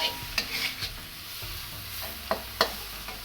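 Thai shrimp curry ingredients stir-fried in a pan, a soft constant sizzle under a few sharp scraping and clinking hits of a utensil against the pan.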